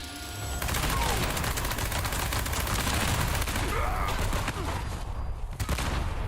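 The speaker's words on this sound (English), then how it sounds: "He's hitting me with a cannon." Heavy gunfire and cannon blasts pound a player in Fallout 76, a dense, loud barrage of booming shots and crackling impacts lasting several seconds.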